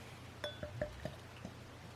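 Huyghe Delirium Tremens beer is poured into a pint glass, giving a few soft clinks and gentle liquid sounds close up over a quiet background.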